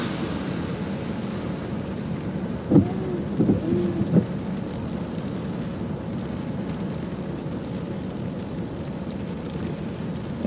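A thunderstorm with steady rain hissing throughout and a brief rumble of thunder near the start, with low sustained noise across the whole stretch.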